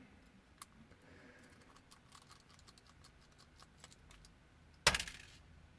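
Small screws come out of a BenQ SP820 DLP video projector under a screwdriver: faint, scattered metallic ticks and clicks close by, then one sharp, louder clatter near the end.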